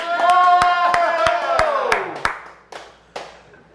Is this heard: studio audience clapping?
yes